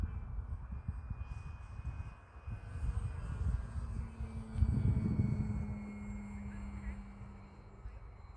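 Engine of a HobbyKing Yak-11 Steadfast RC model airplane climbing, a thin, steady high whine drifting at a distance over outdoor rumble, while a person talks nearby.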